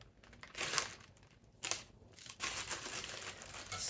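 Plastic bag being cut open during a thrift haul, heard as close, crinkly rustling in several short bursts, each louder than the quiet gaps between them.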